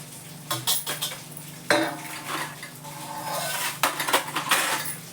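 Brass lamps are cleaned before scrubbing with Pitambari, giving close metallic clinks and scraping knocks in irregular bursts with a brief sharp clatter midway.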